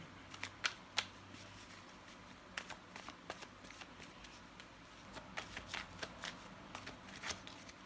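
Tarot cards being shuffled and drawn by hand, close and soft: a run of crisp riffles, flicks and light slaps at an uneven pace, with no talking.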